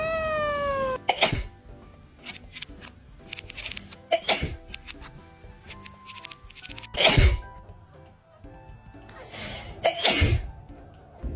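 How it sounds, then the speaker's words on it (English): A person sneezes about four times, each a sharp loud burst spaced a few seconds apart, with a cat meowing at the start and softer rustling and small sounds between the sneezes. "My cat hates when I sneeze."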